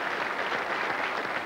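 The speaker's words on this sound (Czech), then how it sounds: "Prosím, potlesk" Studio audience applause on a Czech TV game show, a steady dense hiss of many hands clapping at an even level, with no voices over it.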